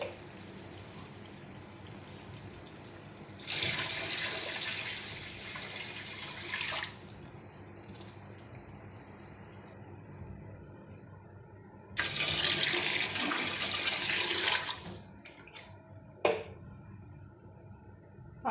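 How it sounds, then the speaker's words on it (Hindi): Water runs from a kitchen tap into a pot for fish biryani rice in two separate bursts, a steady rushing stream each time, with quieter dripping and kitchen sounds in between. "और पानी डालेंगे मैं"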